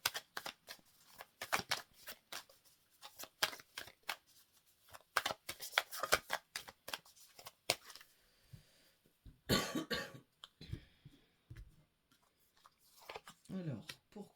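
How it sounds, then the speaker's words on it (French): Tarot cards being shuffled and drawn, repeated crisp riffling and slapping bursts up close, with pauses, a cough and soft murmured talk between them. "On va voir pourquoi on sort ces cartes."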